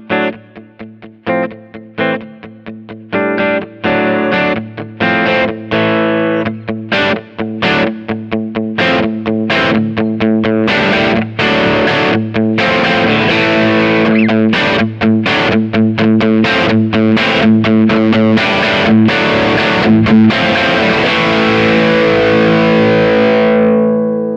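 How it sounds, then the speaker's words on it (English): Electric guitar run through a Kemper Profiler Stage amp modeler, its distortion swept by expression pedal morphing between a bass tone and a morph sound: a sustained, dense run of strummed and picked chords, loud and unaccompanied, the gain gradually growing thicker and brighter. "Now you can use the expression pedal to adjust the degree of distortion between the bass and the morph sounds."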